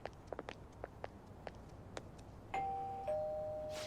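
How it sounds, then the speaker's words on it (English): Doorbell in the video game Persona 5 Royal: a clear two-tone electronic chime rings out after a series of soft footsteps, its tones sustaining and slowly fading. "You ring the bell."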